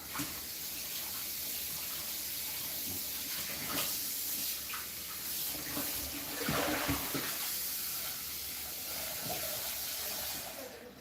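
Tap water running steadily into a kitchen sink during handwashing, a constant close hiss and splash with a few clinks and small knocks over it, no voices.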